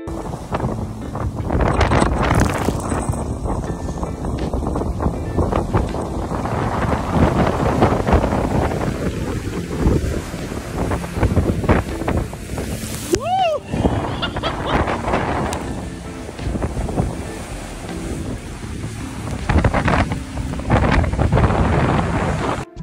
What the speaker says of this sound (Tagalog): malabag yung hangin plus dagat equals stormy seas